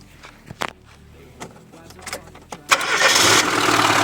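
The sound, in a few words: car engine starting on gas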